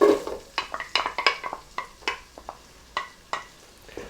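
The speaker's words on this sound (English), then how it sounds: "Let's put the onions in" Chopped onions hit melted butter in a pot for a pumpkin soup, giving a soft sizzle under a series of sharp, close spoon scrapes and taps as they are stirred around.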